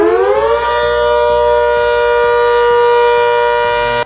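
An ASA Hurricane civil defense siren winds up over the first half-second into a loud, sustained wail that holds steady with a pulsing low undertone, heard alone with no voices.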